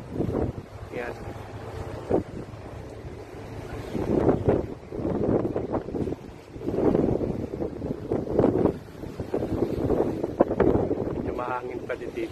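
Gusty wind buffets the microphone with low rumbling surges, rising and falling, while a person talks over it near the water.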